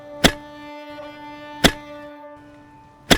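Three sharp, heavy thuds of a tool striking soil in a field, spaced about a second and a half apart over a faint steady tone, each impact short and punchy.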